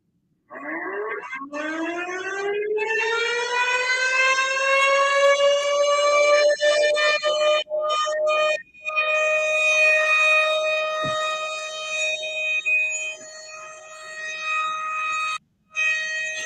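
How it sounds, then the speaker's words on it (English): A tornado siren winds up from low to a high, sustained wail that holds steady for many seconds, a pure tone with rich harmonics, with a few brief dropouts and some distant noises around it. "The tornado never ends. The siren never ends."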